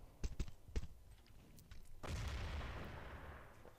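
Grenades go off in the Urban Terror shooter: a few sharp distant pops come first, then a heavier booming blast with a rumbling tail that slowly fades.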